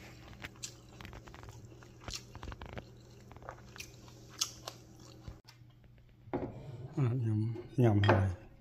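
Fruit chewed and eaten at lunch, with scattered crisp bites and clicks of dishes and cutlery up close, followed by a person talking near the end.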